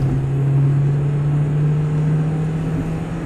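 A Volkswagen car with a tuning chip revving high in third gear on a highway merge lane, a loud steady engine drone with a strong sustained hum and road rumble, no talk.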